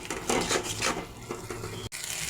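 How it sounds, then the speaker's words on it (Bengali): Spice masala being stirred and sautéed in a pan with salt for a spicy tengra fish curry, giving repeated scraping and clinking strokes close up over a steady sizzle, with a brief pause near the end. "মশলাটা ভালো করে কষিয়ে নেব।"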